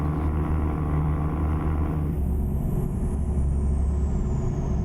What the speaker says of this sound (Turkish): O derece bir egzozumuz var.